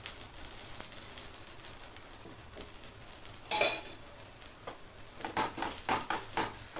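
Oil sizzling and crackling on a masala dosa spread with coriander paste on a hot pan, a soft continuous fry hiss with light scraping and clinks of a utensil.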